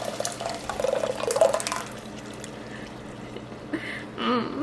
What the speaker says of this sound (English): we're gonna pour it into the pot with the celery and onions